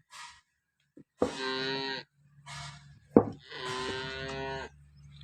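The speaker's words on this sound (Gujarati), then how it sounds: "એક આપણી પાસે લાલ ગાય છે" A red cow lets out two long, loud moos close by, with a few faint knocks and rustles in the quiet gaps between.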